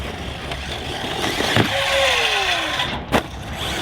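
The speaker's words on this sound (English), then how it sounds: "Doesn't really move along very much on tall grass, it just spins." An electric Team Corally Python 6S RC buggy on a 4S LiPo whines as its wheels spin in tall grass, a rising and falling motor tone with brief louder bursts, close and unaccompanied.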